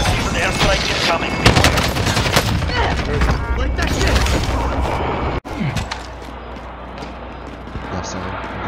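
Airstrike explosions and rapid gunfire in a Call of Duty Warzone match, loud sustained bursts of automatic fire and booms that cut off abruptly partway through, followed by quieter rumbling, with players talking over it.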